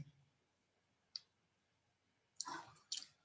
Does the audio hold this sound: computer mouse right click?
yes